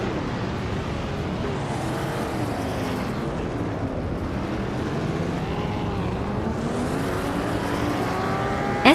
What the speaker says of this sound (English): Vintage street cars are holding tight at Ebisu West